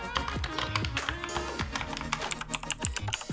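A mechanical keyboard clatters under rapid typing, with dense, uneven keystrokes close to the mic and a few sharper clicks near the end, no voices over it.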